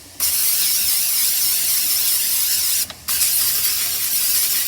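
A loud, steady hiss of a cooking oil aerosol spray onto a mini donut maker runs for several seconds, pauses briefly, then resumes just as strongly.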